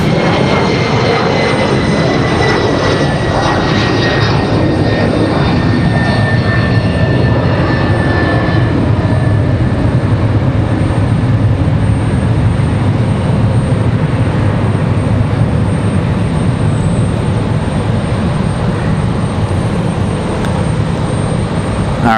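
An American Airlines heavy jet airliner on the runway at RDU airport in stormy weather produces a loud, sustained engine roar with a rising whine, close and constant for the whole stretch.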